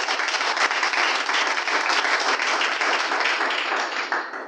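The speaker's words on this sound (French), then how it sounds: "Ça s'applaudit s'il vous plaît." An audience at an official launch event in Gabon applauds, with brisk, dense clapping holding steady, then tapering off at the very end.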